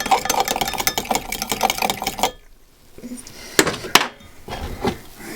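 Foaming yeast mixture being stirred in a bowl for sweet potato dinner rolls: a quick, rhythmic scraping churn for about two seconds, then a pause and a few louder clinks and knocks, close by.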